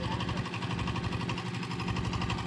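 Boat engine running steadily on a haor boat trip in Tangail, a continuous mid-pitched drone with a regular throbbing pulse, loud and close throughout.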